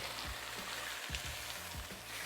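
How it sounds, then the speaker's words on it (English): Steak searing in a super hot pan, a quiet steady sizzle with soft irregular pops and crackles, close and continuous, with no talk. "on a super hot pan, drop it right on. We're gonna let this sit for about 3 to 4 minutes just to get a nice hard sear"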